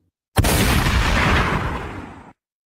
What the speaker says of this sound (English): and a bang from his shotgun split the air.